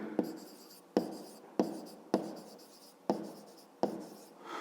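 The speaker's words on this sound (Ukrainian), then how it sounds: "Пишемо." Pen writing on paper during a fifth-grade maths lesson, heard as six close, distinct strokes in a steady rhythm, each starting with a sharp scratch and fading, with no talk over them.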